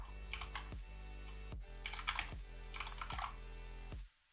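Fingers typing on a computer keyboard at a PC desk in rapid bursts of clicky keystrokes, broken by short pauses, close up, with a low electrical hum underneath and no talking.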